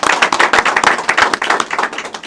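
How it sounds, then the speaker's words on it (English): A press-conference audience claps steadily and briskly, with dense, close, evenly spaced hand claps and no talk for the whole stretch. "So let's again give them a round of applause"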